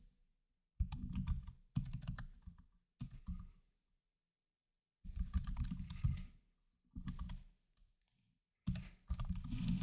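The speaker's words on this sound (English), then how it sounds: "Pretty slow typing here because it's organic." Slow, unhurried typing on a computer keyboard during a coding session, with bursts of clustered key clicks separated by short pauses, close and clear with no talking.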